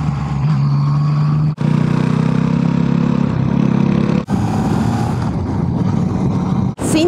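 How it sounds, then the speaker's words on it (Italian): A 44-horsepower motorcycle engine drones steadily at mid pitch, rising and easing with the throttle, with a couple of brief dropouts breaking the constant roar. "Senti come va questa moto da 44 cavalli, eh?"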